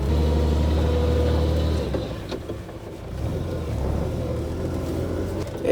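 A 1941 Dodge Power Wagon truck engine idles with a deep, steady rumble, easing slightly midway and then settling back to a smooth low drone.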